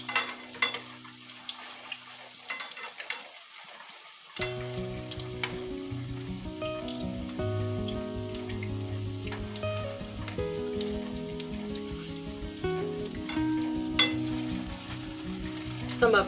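Salmon patties frying in a pan, a continuous close sizzle that swells and stays loud after a quieter start, with occasional clicks and scrapes of a spatula, no talk.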